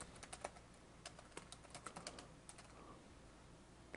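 Someone types a name on a computer keyboard, a quiet run of irregular clicking keystrokes that comes close and clear with no talk over it.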